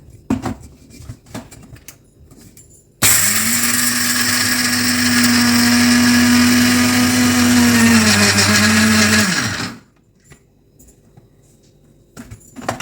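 A kitchen blender grinds peanuts into powder for a stuffed snake gourd fry. It starts abruptly and roars loudly and steadily for about seven seconds, its pitch sagging slightly near the end before it cuts off into quiet.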